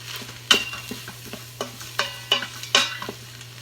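Garlic browning in an Instant Pot for a vegan sauerkraut stew, spoon stirring and scraping in distinct sharp strokes roughly every half second over a faint sizzle and a low steady hum, close with no talk.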